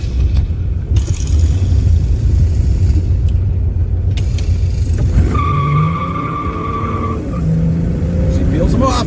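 A Pontiac GTO muscle car roars close and loud, its engine revving hard and climbing in pitch as it shifts up through the gears, with a steady rumble throughout.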